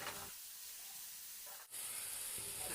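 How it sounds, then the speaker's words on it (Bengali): Onions and garlic frying in a pan for a soybean curry give a soft, close sizzle, briefly dipping as a spatula stirs them, then the hiss returns brighter. "পেঁয়াজগুলোর কালার যতক্ষণ না ব্রাউন কালার হচ্ছে ততক্ষণ পেঁয়াজগুলোকে খুন্তি দিয়ে ভালোভাবে নাড়াচাড়া করতে হবে।"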